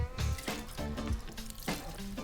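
Water splashes and runs as hair is rinsed off, in uneven gushes and spatters close by, moderately quiet, with no talking.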